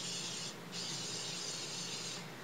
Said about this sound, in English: We're going to spray our little dudes, our little mini pie things